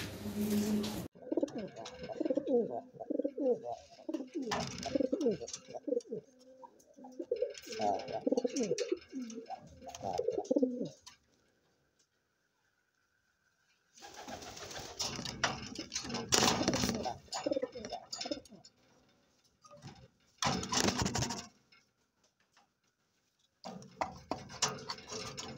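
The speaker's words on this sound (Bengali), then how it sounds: "এ অনেক শক্তিশালী কবুতর" Lahore pigeons coo in a run of soft, throaty calls at close range, first steady and then broken up by louder rustling and scuffling noises with short silent gaps.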